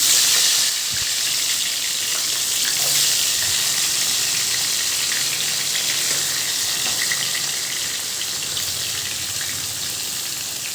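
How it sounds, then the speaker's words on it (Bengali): Boal fish frying in hot oil in a wok, a steady dense sizzle with crackling spits and occasional soft clanks, loud and close throughout. "কড়াইতে বসিয়ে যখন তেলটা গরম হয়ে যাবে, তখন একে একে মাছগুলো ছাড়তে হবে।"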